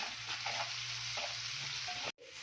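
Chopped onions sizzle steadily in a hot pan for an egg and beans fry, a dense continuous crackle with a few stirring scrapes, close, ending in a brief cut to near silence.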